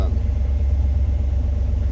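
A 1978 Camaro V8 idling at about 1,000 RPM, a steady, loud, low throbbing rumble close by with even pulses throughout.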